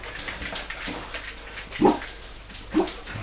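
A dog lets out two faint, short whimpers against a hissy background, with no voices.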